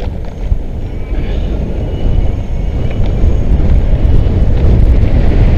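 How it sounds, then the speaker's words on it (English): A vehicle rumbles steadily over railroad tracks on a rough stretch of road, a loud continuous low roar of tires and body noise with no voices. "here comes a bad stretch of road. Starting with railroad tracks."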